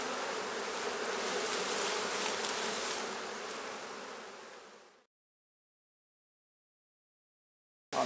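Honeybees buzz densely around an open hive during inspection, a close, continuous swarm drone that cuts off abruptly to silence before briefly returning at the very end.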